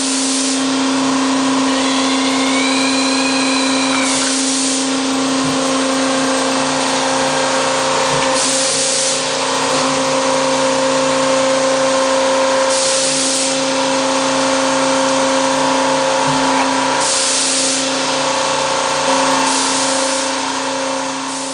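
Underground mining drill rig drilling and flushing a hole for ground support, a loud, steady mechanical roar with a constant engine hum and bursts of hissing that return every few seconds.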